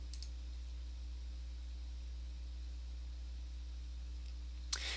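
A computer mouse button gives two quick, faint clicks, one at the start and one near the end, over a low steady electrical hum.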